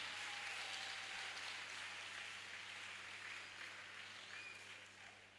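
A crowd at a Menstrual Hygiene Awareness Day and health screening event applauds the organizers. The clapping is a faint, distant, even wash over a low electrical hum, steady and then slowly fading.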